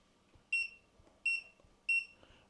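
A heated electric lunch box's timer beeping, three evenly spaced high electronic beeps about three-quarters of a second apart, close and clear over a faint quiet background.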